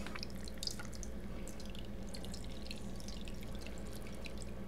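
Water runs steadily from a sink tap while casein curds precipitated from milk are rinsed, giving a constant close hiss with scattered small drips and splashes and no voices.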